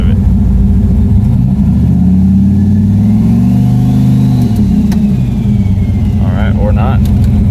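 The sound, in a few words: LS-swapped S10 engine revving on MSD two-step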